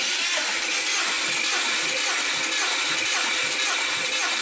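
A Subaru Impreza's EJ201 engine cranks over steadily during a compression test, a loud continuous churning whir with a faint rhythmic pulse running throughout and no voices.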